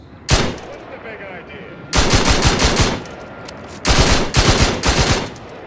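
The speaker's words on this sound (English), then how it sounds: "This heavy machine gun looks pretty sick." A heavy machine gun in the video game The Outer Worlds 2 fires in three loud bursts of rapid shots, separated by brief pauses, with no talk over the gunfire.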